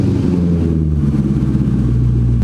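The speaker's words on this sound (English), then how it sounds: "So I'm gonna start it while it's still on the jacks just to make sure there's no exhaust leak" A car engine, just cold-started while still on jacks, runs steadily at a low idle rumble, loud and close, with no voices over it.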